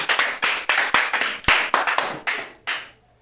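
A church congregation claps hands in praise, a run of about a dozen sharp, fairly close claps in uneven rhythm that thins out and stops near the end, with no voices.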